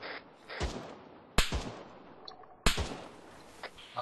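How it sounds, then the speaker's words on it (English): Three sharp, echoing rifle shots crack out at spaced intervals in the military shooter Arma, each trailing off into a rolling outdoor reverberation, with a fainter pop near the end. "Okay, blue team, we're taking fire from the northeast."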